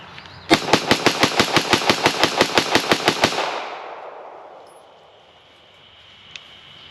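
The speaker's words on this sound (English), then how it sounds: "we got to do the mag dump" A Springfield Echelon pistol is emptied in a fast magazine dump, roughly eighteen evenly spaced, loud shots in quick succession that end abruptly, leaving a fading echo and quiet outdoor background.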